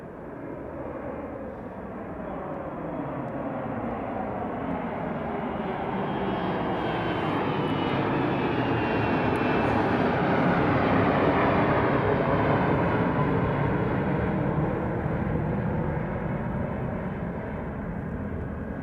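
An aircraft departs Anchorage airport on a clear, cloudless morning, its engine roar building gradually from a distance to a loud, sustained rumble and then easing slightly as it climbs away, with no voices over it.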